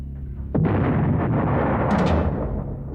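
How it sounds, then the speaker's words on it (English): A grenade explosion in the low-budget action movie Deadly Prey, a sudden loud boom that rolls on as a dense rumbling blast for over two seconds before cutting off. "No one will notice the resulting explosion."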